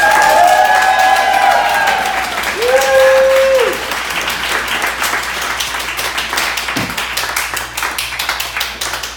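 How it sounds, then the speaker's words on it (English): Comedy club audience clapping steadily at close range, the applause thinning slightly toward the end while cheers fade out. "Well, keep clapping."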